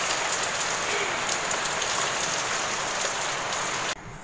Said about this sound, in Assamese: আজি বৰষুণ দিওঁতে বহুত ভাল লাগিছে